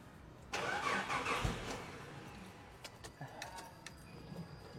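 A car engine cranks and catches, then runs with a brief blip of throttle before settling toward idle, close and fairly loud, followed by a few light clicks and a faint steady whine.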